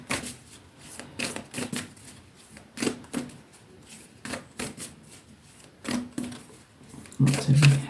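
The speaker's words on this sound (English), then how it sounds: "we're going to pull one from the Moonology deck" Cards from a Moonology oracle deck rustle and slide in quick, soft riffling bursts, close and fairly quiet, repeating through the moment.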